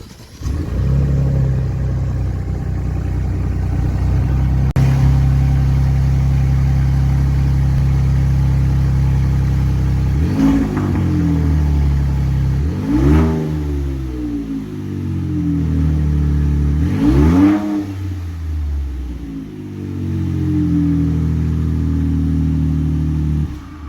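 Ford F150 pickup with a straight-pipe exhaust cut off at the resonator, with no resonator or muffler: a deep loud idle rumble broken by three sharp revs that rise and fall, recorded close.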